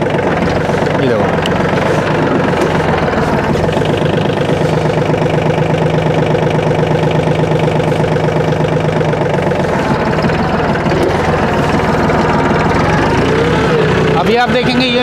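A Mahindra OJA 2127 tractor engine runs steadily with a constant low rumble and knocking throb, loud and close, while someone talks over it.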